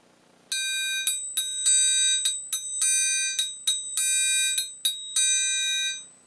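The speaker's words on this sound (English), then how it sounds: "I like to play it usually down in the lower corner" A bright metallic triangle struck in its lower corner repeatedly in an uneven rhythm, each ring sustaining and overlapping the next, clear and close with no other sounds.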